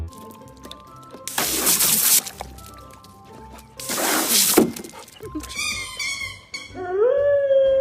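A pet dog howls up close, rising long wavering wails that bend upward in pitch, following a couple of loud rustling thumps near the microphone.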